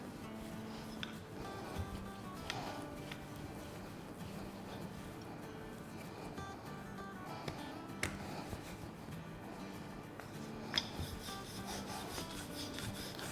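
A rolling pin rolls out potato dough dusted with dry flour into a sheet, giving a faint, steady rubbing and soft thumping at close range with occasional small knocks, no talking.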